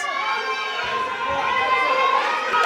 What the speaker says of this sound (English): Got the crowd really getting behind these athletes now.